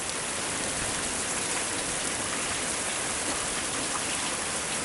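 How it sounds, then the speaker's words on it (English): Steady rain falls outside on a wet day, a dense, even wash of drops that fills the whole stretch at constant loudness with no voices over it. "what do you do on a day like this when it's raining?"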